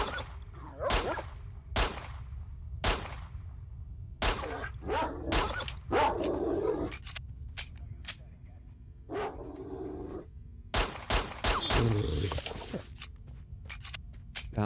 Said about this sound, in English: I'm going to pop off a couple of shots at these blind dogs.